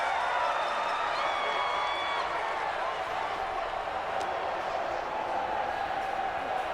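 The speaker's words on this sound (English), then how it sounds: "The crowd here in the Dome making things difficult." A steady roar from a crowd inside the Dome during a Madden 20 simulation of the Patriots at the Saints. The dense, even wash of noise continues under a commentator's voice.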